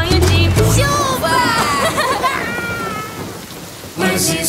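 Steady rain falls with rumbling thunder in an animated children's musical setting, loud and continuous through the stretch, with music or voices faintly mixed in near the start and end.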